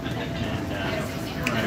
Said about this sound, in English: I'm on the train, man. In rush hour, on top of it.